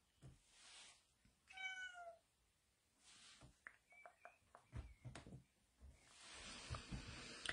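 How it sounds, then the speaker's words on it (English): A cat meows repeatedly, wanting to be let outside, with a clear drawn-out call near the start followed by several shorter meows; household noises and faint background voices sit underneath. "the other one wants to go out and is meowing to go out"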